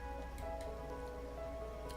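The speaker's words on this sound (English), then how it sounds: "So he's waiting it out in the rain." Soft, steady rain falls in a video game scene, a faint continuous patter with light ticking drops over a low hum, with no voices.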